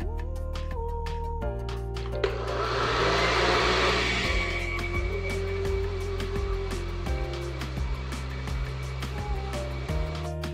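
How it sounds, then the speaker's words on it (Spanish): A blender runs steadily as it liquefies garlic into a smooth paste, its motor whine holding and shifting pitch in steps, with a louder churning wash of blended contents near the start. "Este lo vamos a dejar licuar hasta que no haya ni un trocito en nuestro ajo"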